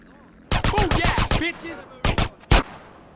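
Gunfire in the video game GTA San Andreas, with a rapid burst of about seven close, loud shots, a short pause, two more shots, then a final sharp blast.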